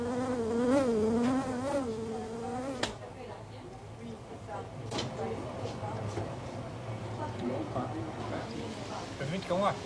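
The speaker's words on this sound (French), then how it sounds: "Une grosse mouche bleue." A big bluebottle fly buzzes close by, its whining drone rising and falling over the first few seconds, then fading under French conversation and room noise.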